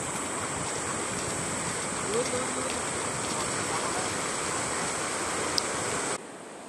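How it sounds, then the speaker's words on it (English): River stretch of Palolem beach in Goa, India, backed by jungle, gives a steady broad rush of flowing water that holds evenly, then cuts off abruptly just before the end. "This is the river part of the Palolem beach in Goa, India, with the jungle in the background."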